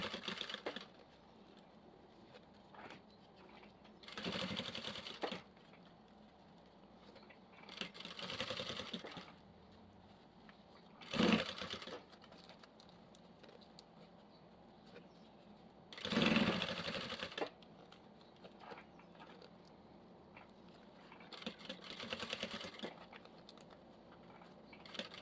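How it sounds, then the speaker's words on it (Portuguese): Short, quiet runs of a sewing machine stitching bias binding along the curved edge of a fabric toothbrush holder, five or six separate bursts with pauses of near silence between them. "Eu vou costurar bem em cima."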